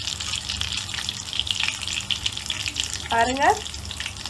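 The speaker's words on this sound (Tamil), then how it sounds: "ரெண்டு சைடும் நல்லா ஃப்ரை ஆயிடுச்சு." Chicken cutlet frying in oil after both sides have browned, a steady hissing sizzle throughout, with a brief spoken word from a woman near the end.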